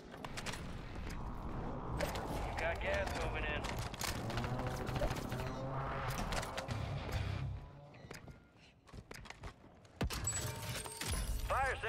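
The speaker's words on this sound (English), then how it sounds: "A mortar strike!" Mortar strike explosions in Call of Duty Warzone land amid dense game audio, with repeated booms and gunfire-like bursts rolling over several seconds, then sharper hits near the end while a voice talks over the action.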